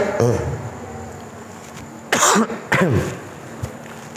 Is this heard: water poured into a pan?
no